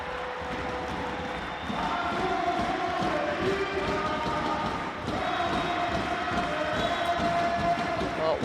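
A basketball arena crowd at a EuroLeague women's game between Perfumerias Avenida and Fenerbahce swells into a louder, sustained roar, with ball bounces and shoe squeaks mixed in and commentators talking over it.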